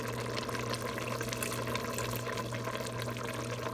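Half a cup of heavy cream poured into a pot of zuppa toscana soup, a steady soft liquid pour running unbroken and close for a few seconds over a low kitchen hum.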